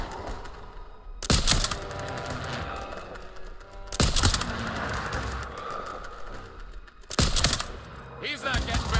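Bursts of gunfire in Call of Duty WWII, with soldiers fighting in a town square, come as three loud, sharp volleys spaced a few seconds apart, with shouted voices and battle noise filling the gaps between them.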